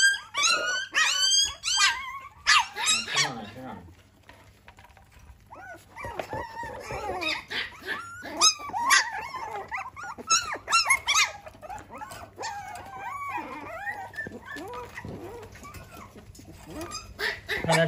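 Abandoned blind newborn puppies left at a barbershop yelp, whine and whimper in a dense, continuous chorus, close and fairly loud throughout.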